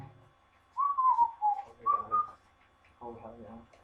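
A person whistles a short, wavering melodic tune in several bursts, close and clear, with brief speech afterward.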